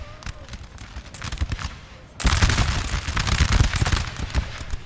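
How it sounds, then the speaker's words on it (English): Artillery and musket fire in a Napoleon Total War battle at the Battle of Trebbia, 1799: scattered distant pops at first, then a sudden louder sustained roar of overlapping volleys and booms, fairly close. "Got artillery here, still doing his bit."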